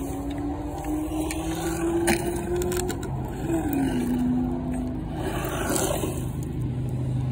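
A small RC car drives past with a high electric motor whine that rises and falls in pitch as it revs, steady and fairly close throughout.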